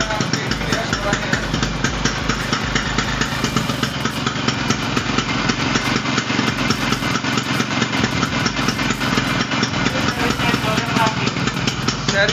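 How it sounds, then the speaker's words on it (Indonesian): Vintage Vespa Mendol scooter engine running steadily after a kick start, a continuous rattling two-stroke idle with fast regular putter, loud and close throughout. "Mesinnya kayak gini ya suaranya."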